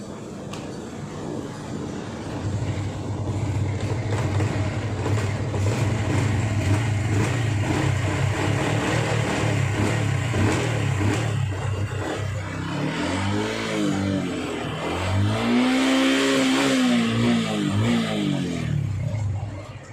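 A Honda Wave 110i motorcycle engine catches and settles into a steady, close idle rumble, then revs up and down in two swelling bursts near the end. No talk.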